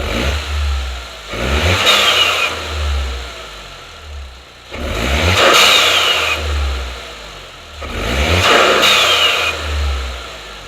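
A Toyota GR Corolla fitted with an MST high-flow intake is revved three times from a standstill, each loud rise and fall separated by a few seconds of idle.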